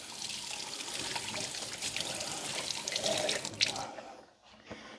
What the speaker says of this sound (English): Now I'm going to have to go over here and wash my hands.